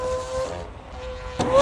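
Lamborghini Aventador hypercar with a V12 engine and exhaust, heard up close for under two seconds as it decelerates: a steady engine drone with harmonic tones that thins out, then a sharp louder burst near the end.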